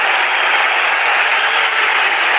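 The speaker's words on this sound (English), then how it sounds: "Listen to the crowds vote in Townsville." A rugby league crowd at a Townsville stadium during a North Queensland Cowboys versus Brisbane Broncos NRL match, roaring and cheering in a dense, sustained wall of noise with no break.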